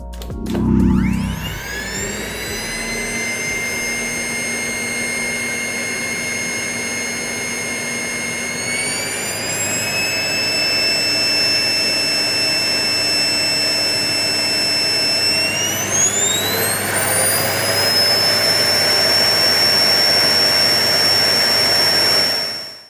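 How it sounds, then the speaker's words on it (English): A Hoover Power7 upright vacuum cleaner motor whines steadily and loudly, its pitch rising in two steps as it speeds up, running continuously without pause. "Let's hear its sound."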